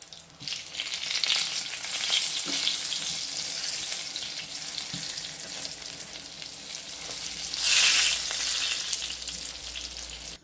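Steady, loud hiss of eggplant strips frying in hot oil, with a brief brighter sizzling burst near the end; no voices.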